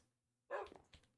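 A dog in Minecraft gives one sharp, close bark after a moment of near silence, followed by a quieter second yip, faint overall with no talking.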